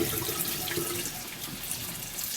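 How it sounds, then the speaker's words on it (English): A kitchen faucet runs steadily into a pot being filled for chicken broth, giving a close, continuous rushing splash at an even level with no voices. "So let's fill this up real quick. Or as quick as my faucet will fill it up."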